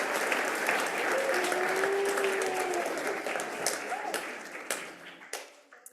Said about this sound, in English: Please give a final round of applause to our sponsors.